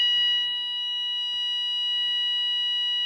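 A newly installed fire alarm system sounds its class change tone during a weekly test, a steady, loud electronic sounder tone that holds unbroken for the whole stretch, with faint clicks and handling noises underneath.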